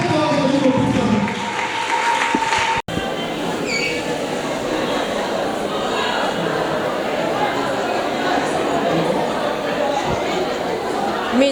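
An audience applauds as a woman guest arrives at a charity event for destitute mothers at Camp Luka. The applause forms a steady, dense wash of clapping and crowd chatter, with a brief dropout near the start.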